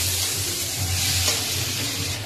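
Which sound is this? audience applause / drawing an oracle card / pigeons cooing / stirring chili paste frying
stirring chili paste frying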